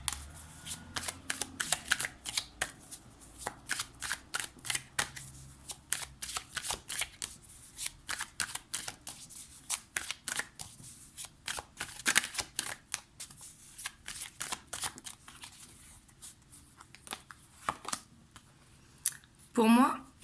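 Tarot cards are shuffled and drawn by hand in a quiet room, a long run of crisp riffling snaps and soft slides in irregular bursts, close-up, with a brief voice near the end.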